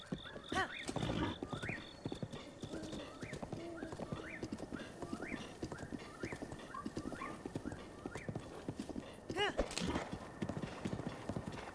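A horse in the video game Zelda: Breath of the Wild clip-clops in an even, repeating gait, with a neigh or snort, while a person talks over the hoofbeats.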